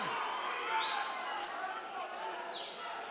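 Fight-night crowd at a Rockin' Fights event roaring and cheering steadily throughout the fifth round, with a sustained whistle-like tone riding on top and commentary voices underneath.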